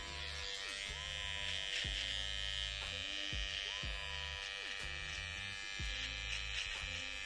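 An electric beard trimmer buzzes steadily close up, its constant motor hum interrupted by short low swooping strokes as it works through facial hair, with a voice faintly underneath.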